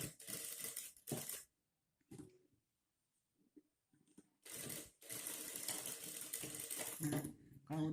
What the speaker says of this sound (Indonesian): Terus ini dijahit, kan nanti ininya kerahnya kerah koko ya. Ini jahit dulu.